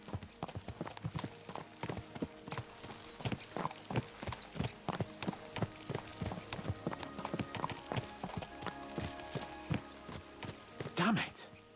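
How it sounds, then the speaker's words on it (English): Horses in Kingdom Come Deliverance 2 clip-clop at a steady rhythmic pace, hooves striking close and continuous throughout, with a brief whinny near the end. "Let's really spur these horses on, eh?"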